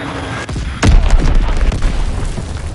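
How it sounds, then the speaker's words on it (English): A bomb explodes in a video game, one loud, deep boom that rolls into a long rumbling roar and slowly fades, following a brief softer thud. "Enemy bomb incoming!"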